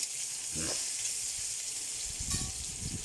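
Dried fish (shutki) sizzles steadily in hot oil with onions and green chillies, a continuous close frying hiss with brief stirring scrapes partway through and near the end.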